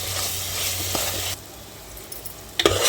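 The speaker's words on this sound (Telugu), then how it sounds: "ఒకసారి ఇలా కలుపుకుందామండి పచ్చివాసన పోయేంత వరకు ఫ్రై చేసుకుందాము అల్లం వెల్లుల్లి పేస్ట్ని" Ginger garlic paste fries with onions in a pan, a steady sizzle that drops suddenly midway and then resumes with a brief clatter of stirring.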